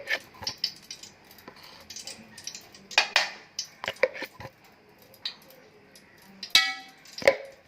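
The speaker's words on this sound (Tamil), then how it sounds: "பெரிய டப்பா வைக்கிறேன்." A big metal cooking container is set down and handled, giving scattered clanks, taps and scrapes of varying loudness, close by and otherwise quiet.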